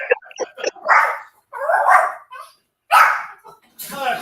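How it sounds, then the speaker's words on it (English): A puppy barks and yips in short bursts, close and loud, with whimpering noises between the barks and pauses between the groups. "is your puppy talking to you?"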